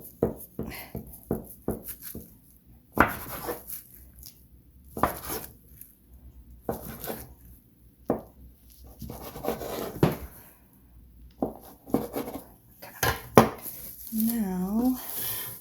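A kitchen knife cutting soft bakery dough for a twisted Chinese bakery pastry, heard as a series of close, irregular knocks and taps on a board, with people talking over much of it.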